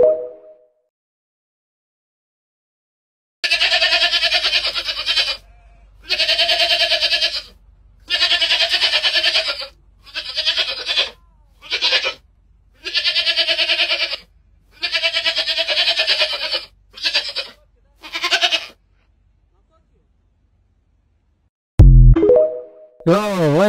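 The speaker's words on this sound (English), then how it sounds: "Yo, what's up with that goat, man?" A goat bleats loudly and repeatedly in a series of long, wavering cries separated by short pauses, close to the listener, followed near the end by a brief burst of other noise.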